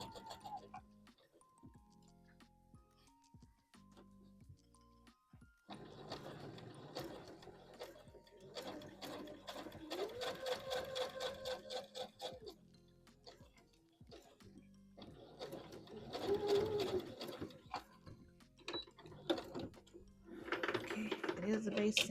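A home sewing machine runs a basting stitch through dress fabric, with quiet mechanical whirring and ticking in several bursts between pauses while a person talks over it.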